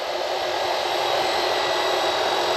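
A Mabru 17,000 BTU air conditioner runs off lithium batteries, giving a steady, close, airy whoosh that holds constant without a break.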